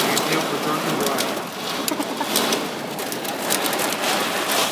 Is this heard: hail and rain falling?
yes